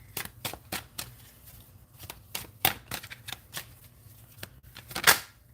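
Tarot cards being shuffled by hand, a series of quick, crisp riffles and slaps at an uneven pace, close and clear with no talking.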